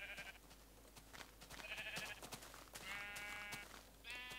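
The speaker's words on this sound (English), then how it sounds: "All the sheep gather there." Sheep in a Minecraft-style farm game bleat repeatedly, several overlapping nasal cries in quick succession, heard quietly over a low steady hum.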